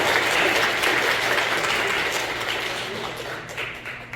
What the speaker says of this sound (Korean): 그분들에게도 뜨거운 감사의 박수